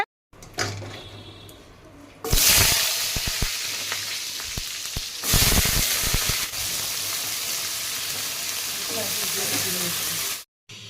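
Potatoes, pumpkin and stalks cooking in a pan with a black cumin tempering, a loud sizzle bursting up as ingredients drop in, followed by a sustained hiss with a few stirring clatters.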